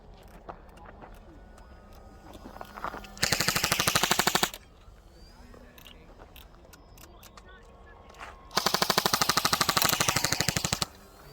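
An airsoft gun fires BBs in two rapid full-auto bursts of about a second each, loud and close, with quiet handling noises and faint talk in between.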